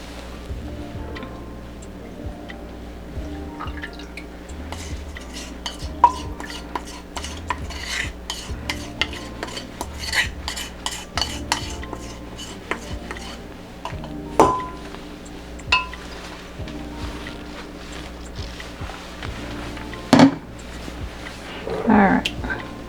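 Soap mixture stirred in a container for homemade soap, with steady scraping swirls and frequent light clinks of a utensil against the sides, continuing at an even pace throughout.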